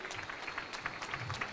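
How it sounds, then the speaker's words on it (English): A crowd applauds steadily, with dense clapping throughout and a faint murmur of voices underneath. "Round of applause, ladies and gentlemen."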